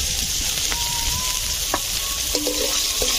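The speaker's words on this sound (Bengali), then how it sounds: "এই মাছ ভাজা হয়ে গেছে, তুলে নিচ্ছি।" Fish fries in oil, sizzling and crackling steadily, with a few light clinks of a utensil against the pan; no talking.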